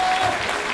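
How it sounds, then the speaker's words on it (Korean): Audience applause at a Korean political party gathering, a dense steady patter of clapping from a crowd lasting under a second. "기쁘게 박수 쳐주시면 고맙겠습니다"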